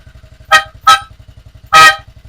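A motorcycle's musical horn toots three short bright blasts over a quick, steady idling 125cc engine putter.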